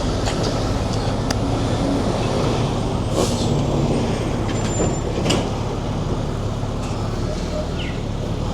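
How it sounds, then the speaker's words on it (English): A big truck passes close on a Vancouver city street, heard from a bicycle, with a steady heavy engine rumble and several sharp air-brake hisses over constant traffic noise. "Big truck up here."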